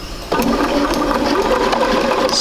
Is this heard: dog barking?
no